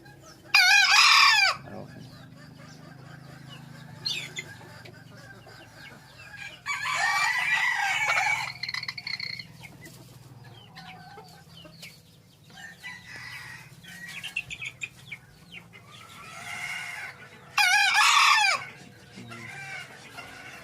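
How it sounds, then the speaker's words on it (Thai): A hybrid green junglefowl rooster crows in three short, loud, strained bursts spaced several seconds apart, with quiet outdoor background between them. "นี่ครับคือเสียงขันครับ"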